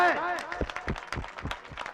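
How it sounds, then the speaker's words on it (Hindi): An audience at a Urdu poetry (naat and nazm) recital claps in scattered, fairly rhythmic beats following a brief spoken phrase, close and moderately loud. "एक मर्तबा तमाम लोग जोरदार तालियां बजाएं"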